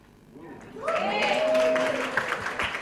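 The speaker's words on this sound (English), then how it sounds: "Clap hard for me. Come on, clap." Audience at a celebrity book launch bursts into clapping and cheers after a short lull, building quickly and holding at a moderate level, with voices mixed in.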